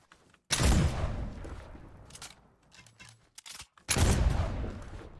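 The Flint Knock weapon fires in a video game, two loud sharp blasts a few seconds apart with softer handling clicks and mechanical sounds between them.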